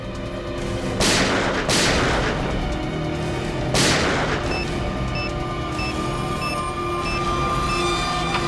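Three loud gunshots go off in a TV crime drama scene, each a sharp blast with a long echoing decay, spaced about a second and then two seconds apart, over a steady musical drone.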